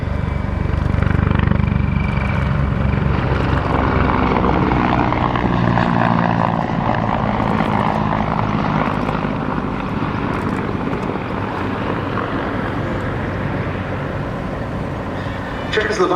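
Mi-35 Hind attack helicopter flying a solo display with smoke at a British airshow, a loud continuous rotor and engine roar filling the whole stretch, with an announcer talking over it.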